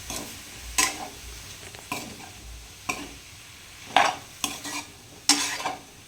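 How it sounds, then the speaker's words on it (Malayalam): A spoon stirs mushroom gravy in a pan after salt goes in: about six distinct scraping strokes at an irregular pace over a faint sizzle, close and clear, with no talking. "നമുക്കൊന്ന് മിക്സാക്കി കൊടുക്കാം"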